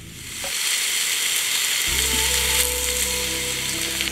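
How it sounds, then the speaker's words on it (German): Catfish fillet steaks sear in a hot frying pan, a loud steady sizzle close up, with a brief clatter and a low hum joining partway through. "auf der Fleischseite von unten leicht oder scharf, besser gesagt, anbraten"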